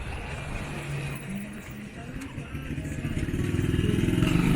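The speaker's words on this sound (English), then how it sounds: "This little motorcycle my boy got." Small motorcycle ridden along a city street in Tijuana, its engine buzzing close by and building louder toward the end as it speeds up, with someone talking over the ride.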